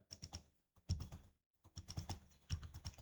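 Fingers typing on a computer keyboard in bursts of quick, close key clicks with short pauses between, entering text into a Word document.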